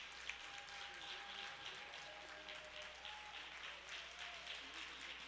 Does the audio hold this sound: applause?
yes